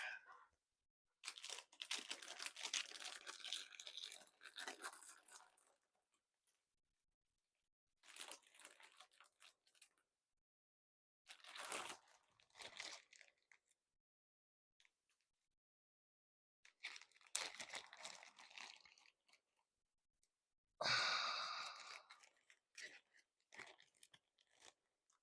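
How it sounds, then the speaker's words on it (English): Plastic packaging from a stash of model kit parts crinkles and rustles in several separate bursts of a few seconds each, close and crisp, with quiet gaps between them. "Probably heard the crinkling."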